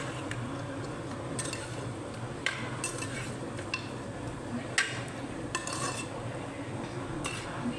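Mutton sautéed with turmeric in a pan for mutton kulambu, a dense steady frying hiss under repeated sharp scrapes and clinks of a spoon stirring against the metal, close and continuous with no talking.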